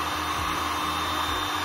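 A heat gun runs at full load powered by a Felicity IVPS2524 combined inverter charger, giving a steady, even blowing hiss with a low electrical hum beneath, constant and close throughout.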